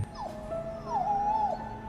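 Stray dog whimpering and yipping in high, wavering whines, two drawn-out pleading cries close by and alone, the second longer and rising and falling.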